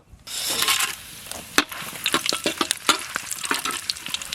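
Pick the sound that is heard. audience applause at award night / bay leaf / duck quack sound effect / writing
bay leaf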